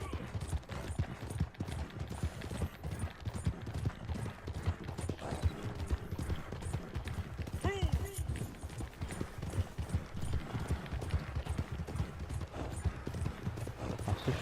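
Horse hooves trot in Red Dead Redemption, a quick, steady clip-clop running without pause through the whole stretch, with soft mechanical game sounds and faint talk in the background.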